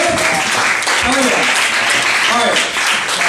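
A comedy club crowd at a live stand-up show cheers, whoops and applauds loudly and continuously, with scattered shouted voices rising through the dense clapping.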